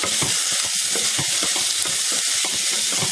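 Tomatoes and onions sauté in a hot pan with a dense, steady sizzle, broken by a rapid run of close scraping stirring strokes throughout, no talk.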